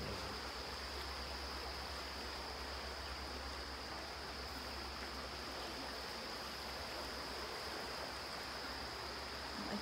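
A strongly running river rushes loudly and steadily, a dense unbroken roar of flowing water close by with no pauses or talk.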